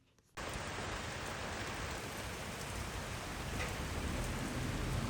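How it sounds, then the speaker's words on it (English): Rain begins abruptly and then pours steadily outdoors, a dense, even, close wash of falling water with no talking. "I saw the rain coming a mile away"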